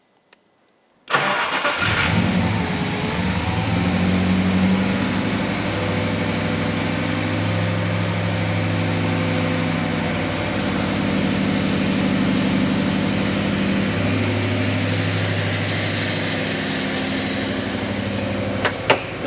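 A V8 engine, likely in a drift car at a skid-car workshop, cranks over after a click and settles into a loud, steady idle with a lumpy, pulsing rumble that runs continuously close by.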